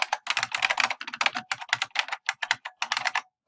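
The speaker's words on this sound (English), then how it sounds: "Sorry about my clicky keyboard." Rapid, crisp typing on a clicky mechanical computer keyboard, a close run of sharp keystrokes in quick bursts with brief pauses, no voices.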